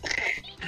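A short cartoonish duck quack from a SNES video game sounds once, brief and bright, lasting under a second.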